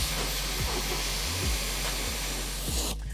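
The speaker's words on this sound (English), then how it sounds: "blast off and rinse off the liner" A pressure washer sprays water to blast and rinse an all-weather rubber floor liner, making a loud, steady hissing roar that runs on without a break and stops abruptly at the end.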